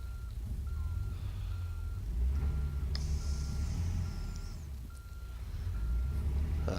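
A Peterbilt truck in a trucking video game rumbles with a low engine idle, joined by a repeating electronic beep tone and a brief hiss, steady and fairly close throughout.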